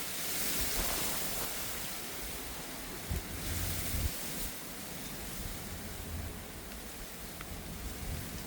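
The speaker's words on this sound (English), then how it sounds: "As you can see, that wind is picking up." Steady gusty wind sweeps across an outdoor garden ahead of a hurricane, a loud continuous broadband roar with brief stronger bursts, no voices present.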